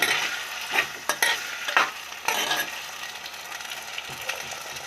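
A pan of fish curry base is stirred and sautéed over a low flame. A soft continuous sizzle runs beneath irregular, close scraping strokes of a spoon against the pan.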